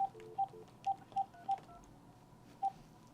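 Keypad tones from an AT&T DECT DL72219 cordless phone with call blocker, six short evenly loud beeps at an irregular pace, each a brief two-tone chirp, close and clear with a faint background hiss and no talking.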